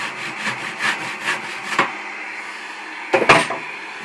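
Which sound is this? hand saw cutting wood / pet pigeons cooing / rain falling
hand saw cutting wood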